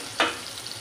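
Bitter gourd frying with dried shrimp in a pan gives one brief sizzling stir burst near the start, followed by a quieter steady hiss.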